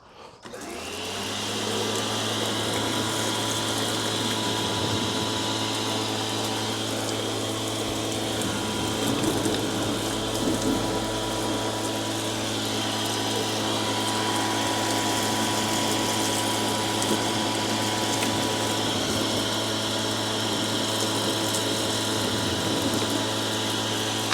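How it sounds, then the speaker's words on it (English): A pressure washer used without its wand at fairly low pressure rinses the floor of a Polaris Ranger off-road vehicle, producing a loud, steady pump hum with a continuous water hiss that runs unbroken throughout. "I'm going to use the pressure nozzle, or the pressure washer, without the pressure wand."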